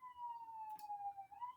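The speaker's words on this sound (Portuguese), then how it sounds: "Ei, ambulância, isso é hora, ambulância?" Ambulance siren wailing from some distance, a single sustained tone slowly falling then rising again, faint but clear over quiet background.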